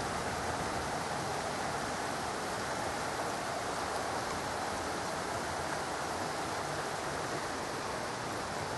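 Steady rain falls outdoors in a broad, even hiss that fills the whole stretch with no breaks, close and constant, where a husky and a malamute are out in the wet.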